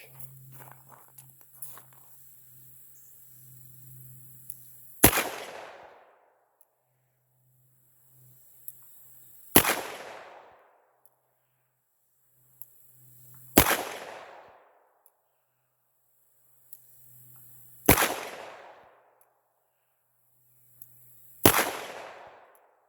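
Five loud, sharp shots from a .357 Magnum heavy pistol loaded with CCI Magnum primers, fired singly at a few seconds' spacing, each with a decaying outdoor echo; faint background noise fills the gaps.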